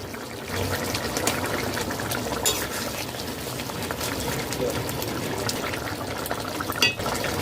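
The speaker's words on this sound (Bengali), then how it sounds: "লো টু মিডিয়াম ফ্লেমে ফুটিয়ে নিতে হবে দু মিনিট ফুটিয়ে নিয়েছি" Egg curry bubbling steadily in a covered pot on a low to medium flame, a constant close simmering hiss and pop of liquid with no pauses.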